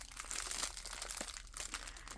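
Crinkly plastic zipper seal bags printed with snowflakes are handled close by, giving quick irregular crackles and crumples, quiet and with no talking.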